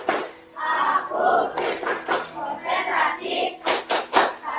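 A classroom of children performs a rhythmic clapping chant, shouting words in unison between bursts of sharp, patterned hand claps that come in quick groups, close and lively.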